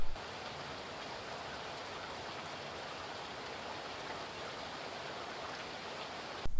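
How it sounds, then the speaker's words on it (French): Light rain falling in a soft, even hiss, a dense patter of fine drops held at a constant faint level from start to end with no voices. "une pluie très faible"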